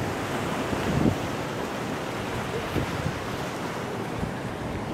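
Steady wind buffeting a microphone on a Mediterranean seashore in Greece, a constant loud rushing roar with faint surf beneath and no talking.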